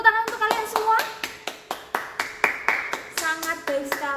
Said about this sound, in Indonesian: Ya, tepuk tangan untuk kalian semua.